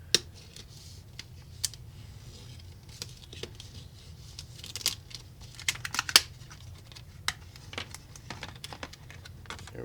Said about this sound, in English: I'm just going to cut around the packaging here.